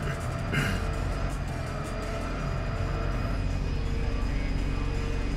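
Car engine droning steadily while driving in the street-racing game Tokyo Xtreme Racer Zero, an untuned car, with a continuous loud rumble and a brief burst near the start, alone without speech.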